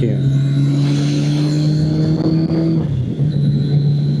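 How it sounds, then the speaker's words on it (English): A Kawasaki ZL900 motorcycle on old tires runs with a loud, steady engine drone that climbs slightly in pitch as it revs, then dips briefly before settling back, heard close up alongside wind and a rider's voice. "this bike wants to rev out and wants to run"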